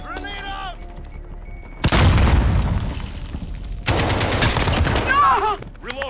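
Heavy booms and sustained gunfire on a Call of Duty Modern Warfare multiplayer battlefield, two loud, dense blasts of noise with short gaps between them, ending in a quieter stretch with voices and bird-like chirps.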